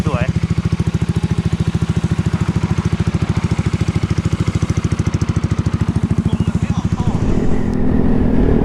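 A Yamaha Xmax300 scooter fitted with an S1000RR exhaust pipe idles with a loud, close, rapid throbbing pulse, then revs up near the end into a rougher, fuller roar.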